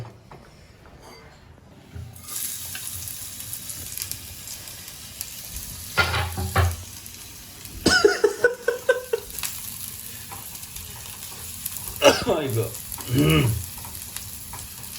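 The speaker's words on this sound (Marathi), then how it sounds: "मस्त आता कांदा छान गोल्डनिश होईपर्यंत लाल नाही करायचं आपल्याला." Onion fries in a pan for Satara-style dry mutton, a steady sizzle that starts after a quiet opening, with several louder bursts of stirring and scraping against the pan.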